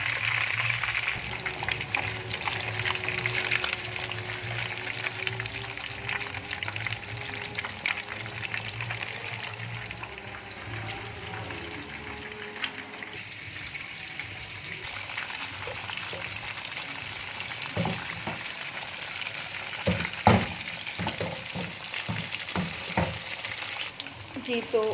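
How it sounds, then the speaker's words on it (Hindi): Fish pieces fry in hot oil in a pan, a continuous close sizzle with scraping and clinks of a spoon as they are turned one by one; toward the end the stirring knocks grow sharper. "पलटते जाएं सारी फिश को इस तरह से, ताकि ये टूटने ना पाए।"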